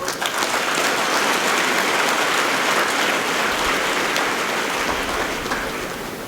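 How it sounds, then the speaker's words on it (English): An audience at a political speech claps in steady, dense applause that stays loud and continuous throughout, with no voices over it. "Why do I get the feeling that the clap was very muted?"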